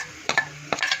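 Curry leaves and ginger paste being stirred in a pan with a spoon, giving a few quick scraping strokes in two short clusters over a soft sizzle.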